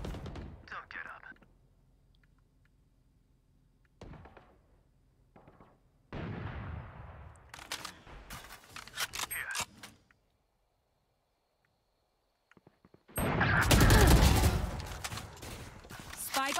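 A video game gunfight heard as sharp bursts of gunfire and clustered shots, with stretches of near silence between volleys and a heavy, dense barrage near the end.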